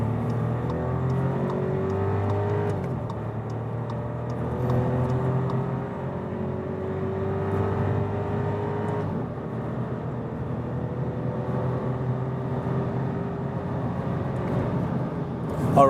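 A 2018 Volkswagen Polo Mk6 with a three-cylinder turbo engine pulls hard from 50 to 130 in second gear and up, the engine note climbing in rising sweeps with gear changes, heard from inside the cabin over road roar.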